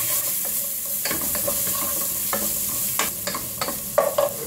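Onions frying in a pan hiss steadily while being stirred, with scattered scraping taps of a spoon against the pan and no voices.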